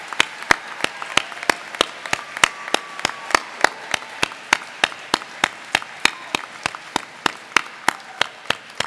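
Audience applause at a culinary institute's 2016 graduation ceremony, sounding as a steady, rhythmic clapping with regular sharp claps at an even pace throughout, fairly close and with no talk over it.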